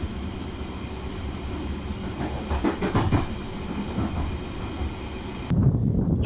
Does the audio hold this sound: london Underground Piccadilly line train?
yes